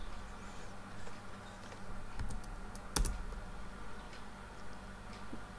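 Soft, fast keystrokes on a computer keyboard during a PHP install on CentOS 8, faint clicking taps scattered through a quiet room with one sharper key strike standing out in the middle.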